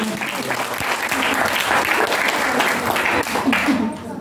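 A church congregation bursts into loud, dense applause during a testimony, sustained for several seconds with voices mixed in before it fades at the end.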